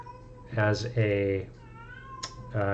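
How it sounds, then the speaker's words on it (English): A house cat meows loudly and close by, two drawn-out wailing meows followed by a shorter chirp, in a quiet indoor room with a low steady hum beneath. "I apologize if you can hear the cat."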